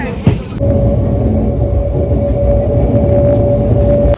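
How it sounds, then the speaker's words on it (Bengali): A train rumbles in close and loud at Madhyamgram station, with a steady high-pitched squeal held over the low roar until it stops. "চলে এসছে ট্রেন"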